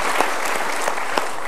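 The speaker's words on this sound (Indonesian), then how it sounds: "Kita berikan tepuk tangan." Studio audience applause on an Indonesian television talk show, a dense, steady patter of many hands clapping throughout the short stretch with no talk over it.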